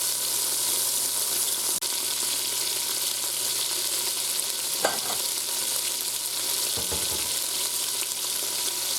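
Floured steak browning in hot oil inside an Instant Pot, a steady loud sizzle throughout with a couple of brief scraping and clanking touches.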